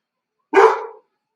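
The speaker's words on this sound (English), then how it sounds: "It's my dog." A dog gives a single short, sharp bark, close and loud, alone in an otherwise silent moment.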